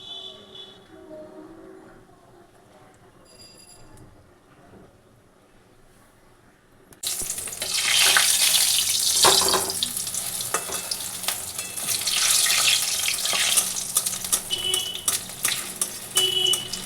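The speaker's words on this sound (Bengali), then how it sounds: "তেল আমার গরম বন্ধুরা হয়ে এসেছে, এবার এটাকে আমি একটু ভেজে নেব।" Cheese bread rolls coated in cornflour batter drop into hot oil, after a quiet stretch of kitchen sounds, and then fry with a loud, steady, crackling sizzle that continues to the end.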